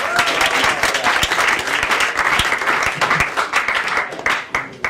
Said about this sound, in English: Please start clapping for Mr. Aise O'Neill.